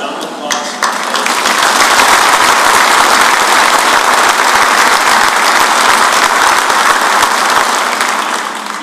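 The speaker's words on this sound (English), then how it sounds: "I want to give General Anderson a round of applause." Loud, sustained audience applause fills a military change of command ceremony for Special Operations Command Africa, steady dense clapping running nearly nine seconds after a sharp start.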